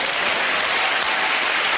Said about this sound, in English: And clapping.